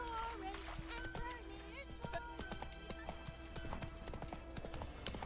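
Roach the horse's hooves clip-clop at a steady trotting rhythm in The Witcher 3, close and clear beneath other game sounds and tonal background, with no voices in the moment.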